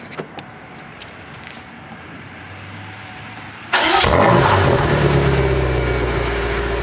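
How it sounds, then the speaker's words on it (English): A quiet ambient hush, then a 2022 BMW M5 CS cold-starts, abruptly cranking and roaring to life, settling into a loud, rumbling high idle close by. "I'm going to go ahead and give you guys a little bit of cold start"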